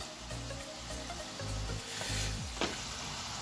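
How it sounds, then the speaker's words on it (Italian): Potato chips sizzle and fry in hot oil in a busy kitchen, a steady crackling hiss with faint clinks and low rumbling background noise throughout, plus a short sharp knock near the end. "Le patatine che friggono."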